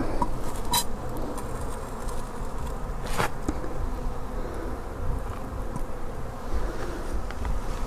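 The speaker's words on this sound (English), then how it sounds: "Quite a few bees there." A dense swarm of honey bees nesting in a communications pit on a footpath buzzes continuously up close as comb is broken away, a steady droning hum with a few faint clicks and knocks.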